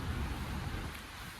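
Steady rain hissing down, a dense broadband wash with low rumbling underneath, continuous and fairly loud throughout.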